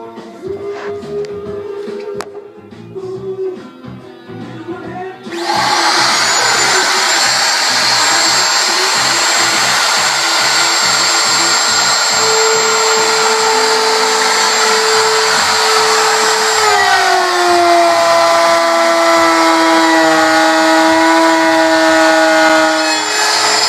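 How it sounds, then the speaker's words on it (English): A handheld router cuts through metal with a loud, steady high-pitched whine that starts abruptly and runs continuously, its pitch dropping slightly partway through. "So now that I've got all the routering in"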